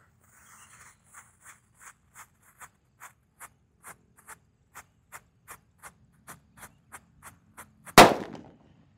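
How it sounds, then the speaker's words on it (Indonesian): A red disco happy flower firework, once lit, gives a steady run of about twenty soft, evenly spaced ticking crackles, then one sharp, loud burst that fades quickly. No voices. "Lanjut yang kita nyalakan di sini ada disco happy flower yang warna merah."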